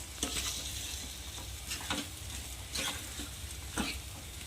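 Steady sizzling of black chickpeas frying in masala with a spoon scraping and stirring through it every second or so, close and continuous.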